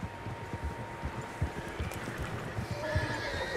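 Horses neigh and whinny in Red Dead Redemption 2 over a bed of outdoor ambience with soft hoof clip-clops, fairly quiet and distant, with a louder whinny toward the end.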